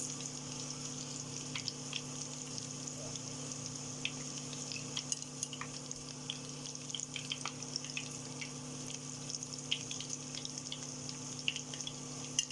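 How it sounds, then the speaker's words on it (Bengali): Bread-coated chicken balls fry in hot oil in a home kitchen, a continuous soft sizzle with scattered crackles and pops over a low steady hum, and no one speaking. "এই যে ভেজে নিলাম, আমি এক এক করে আরও ভেজে নিচ্ছি।"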